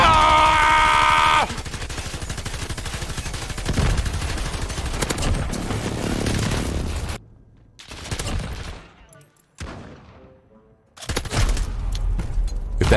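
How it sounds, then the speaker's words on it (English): Rapid gunfire in Call of Duty Modern Warfare, a busy stretch of automatic shots and bursts, fairly loud, broken by brief silent gaps and scattered quieter shots. "I can lay down cover fire."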